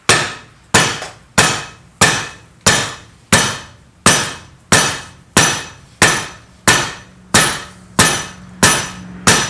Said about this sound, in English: Bend it the same amount all the way. And with a soft hammer.